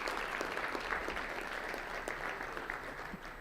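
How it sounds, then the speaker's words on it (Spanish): An audience applauds after a round-table panel discussion: a dense, even patter of clapping from many hands that holds steady and fairly soft throughout. "Un aplauso por favor para todos"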